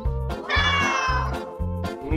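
A cat meows loudly and close by, several drawn-out calls repeating in a steady rhythm with brief gaps, with no voices.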